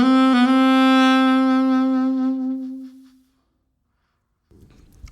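A saxophone plays a single sustained, steady note for about three seconds, then fades out, leaving silence and a faint rustle at the end.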